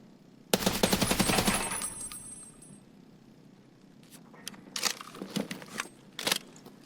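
A rapid burst of AK rifle fire in the video game Escape from Tarkov rings out loud and sharp, then scattered clicks and thumps follow after a short lull.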